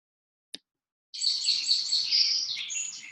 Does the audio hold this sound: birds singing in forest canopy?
yes